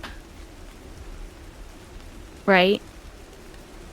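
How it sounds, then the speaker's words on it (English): Steady rain ambience hisses softly and evenly in the background, with one brief spoken word rising above it partway through. "You hear just rain as if he's waiting for you to continue."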